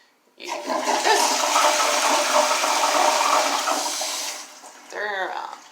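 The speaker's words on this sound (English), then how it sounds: "if there's a lot you want to flush, you can do this." A toilet with a three-quarter-inch pipe flush valve lets out a long, loud rushing gush of water for several seconds, then cuts off, followed by a brief burst of nearby speech.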